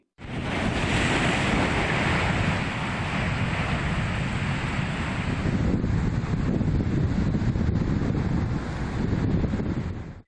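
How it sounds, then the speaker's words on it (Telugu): Rough surf roars in a dense, continuous wash on the Kerala coast, waves crashing one after another with loud wind buffeting the microphone, no voices. "సముద్ర ఉధృతికి ఎగిసిపడుతున్న అలల నుంచి రక్షణగా"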